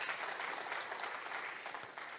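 Steady applause from a church congregation during a sermon, dense continuous clapping filling the whole stretch without a pause.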